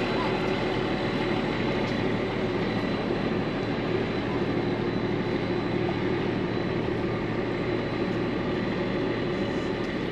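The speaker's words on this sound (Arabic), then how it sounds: "ماشي على السكة فيها تسنان" A cog railway train grinds steadily up the rack track on Pikes Peak, Colorado, a continuous broadband rumble and rattle heard from on board, with no clear voices.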